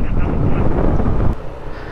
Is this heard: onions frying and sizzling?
no